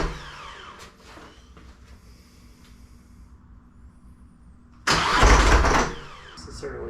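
A 2018 Polaris Sportsman 850 Highlifter ATV engine cranks over with a low mechanical churn, then bursts into a loud, rattly catch for about a second before settling back to a rough running rumble, close by.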